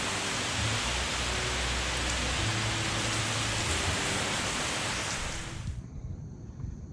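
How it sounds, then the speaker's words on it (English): Steady, dense roar of heavy rain pouring down on a lake during a thunderstorm, loud and continuous, cutting off abruptly near the end; no distinct thunder stands out. "Got some thunder boomers and some serious rain coming through here right now"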